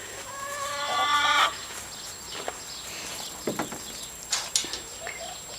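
Backyard hens near a shed in a garden give a drawn-out clucking call up close, followed by scattered footsteps and small knocks.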